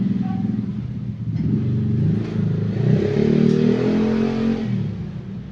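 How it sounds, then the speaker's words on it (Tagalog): Motorcycles and other vehicles pass a house, a continuous low engine rumble that swells and fades steadily, fairly close and alone. "yung mga sasakyan, mga motor"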